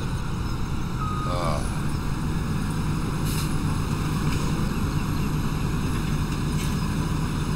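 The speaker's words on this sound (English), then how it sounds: "Some of these harvesters are very loud." A harvester engine runs as one loud, steady, close drone with a low hum, filling the whole stretch without a break.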